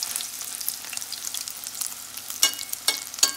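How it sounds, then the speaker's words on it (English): Crab cake mixture spooned into hot sesame oil fries with a steady close sizzle and crackle, sharp spitting pops bursting out near the end; no voices. "I'm just gonna drop a little bit in a spoon into the oil"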